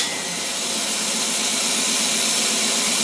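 Marine engine fitted with a Bruce Carter AFB carburetor runs steadily in hot weather, producing a loud, continuous roar with an even low pulsing throughout and no pauses.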